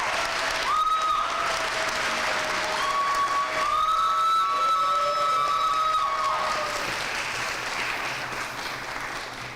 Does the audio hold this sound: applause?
yes